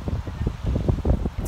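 Wind gusting outdoors by a harbor on a cold day, a low, buffeting rumble battering the microphone, steady and close with fluttering surges.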